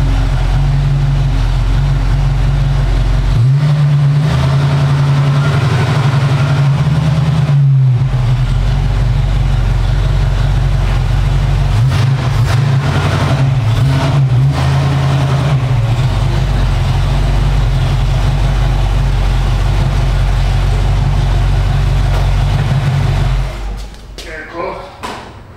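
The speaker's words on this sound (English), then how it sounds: "There she is, folks, 1966 Ford Mustang." A 1966 Ford Mustang engine runs steadily and loudly up close for a long stretch, its low hum shifting in pitch at times before fading near the end, with talking over it.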